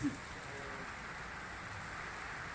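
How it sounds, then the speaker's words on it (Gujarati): Heavy rain pours down steadily in a thunderstorm, a dense, even hiss throughout with a brief low bump at the start. "ગાજ વીજ સાથે વરસાદ"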